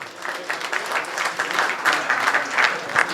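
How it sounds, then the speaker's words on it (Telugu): A gathered crowd at a church consecration in Kondalaraopalem claps as local elders cut a cake, steady, moderately loud applause with a slightly uneven pulse throughout. "అందరూ గట్టిగా చప్పట్లు కొడదాము"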